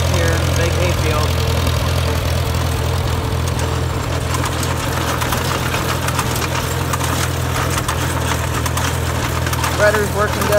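An old Farmall Super C tractor with a four-speed gearbox runs in second gear while pulling a manure spreader across a hay field. Its steady, loud, close engine drone is overlaid by rattling and vibration, and talk can be heard over it.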